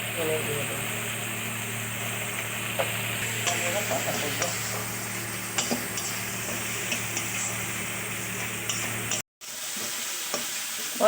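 Spices frying in oil with cooked tomato for a snakehead fish curry, a steady sizzle under occasional scraping stirs, with a low engine-like hum behind it and a brief silent break near the end.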